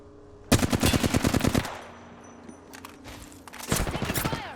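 Two loud, rapid bursts of automatic gunfire ring out in a shooter video game, one early and one near the end, with quieter sporadic shots and scuffling movement between them and a faint voice underneath.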